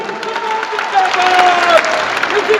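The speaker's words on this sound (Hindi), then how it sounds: "आप इनके लिए एक बार जोर से ताली बजाइए" Audience applause fills a hall at a Janata Party political rally, a steady dense wash of many hands clapping with crowd noise, while a voice carries on over it.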